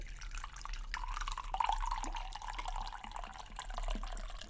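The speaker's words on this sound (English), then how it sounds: "Sorry if you hear my rum pouring." Rum pouring into a glass, a close, steady liquid stream with a rising pitch as the glass fills, heard alone for several seconds.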